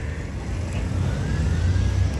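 Road traffic on Avenida Juracy Magalhães in Vitória da Conquista, Bahia: a steady low rumble of several cars and vehicles passing close by on a busy avenue, with a faint rising whine as one draws near.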